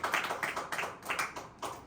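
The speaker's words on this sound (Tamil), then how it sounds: "கைத்தட்டி ஆண்டவரை மகிமைப்படுத்தும்." A church congregation clapping hands together in praise, a steady rhythmic series of sharp claps at an even beat, close and fairly loud, with no voices over it.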